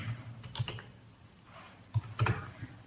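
Fingers type on a computer keyboard, producing close, irregular clusters of clicky keystrokes with short pauses between bursts, no talking.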